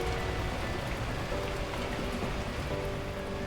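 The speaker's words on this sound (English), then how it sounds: "At that moment, the heavens opened up, unleashing torrential rain." Torrential rain in the video game Beacon Pines, a loud, dense, unbroken downpour roar with faint tonal hums beneath, and no voices.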